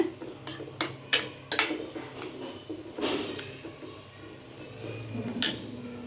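Kosthu being stirred in a metal pot after adding water and turmeric powder, giving scattered clinks and scrapes of a spoon against the pot at an irregular pace, moderately close, with no talking.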